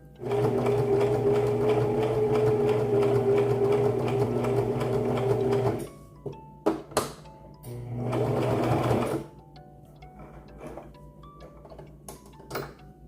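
Sewing machine stitching a fabric scrunchie closed, running in a steady fast whirring rattle for about six seconds, stopping for clicks and handling, then a second short burst of stitching before quieter ticks.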